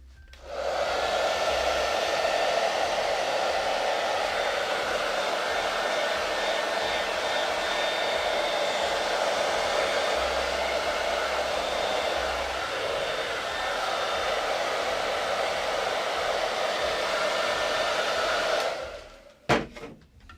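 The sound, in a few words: hair dryer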